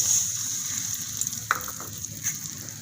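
Semolina toasts in a spoonful of hot ghee in a pan, giving a close, steady, light sizzle with a few soft stirring scrapes and taps.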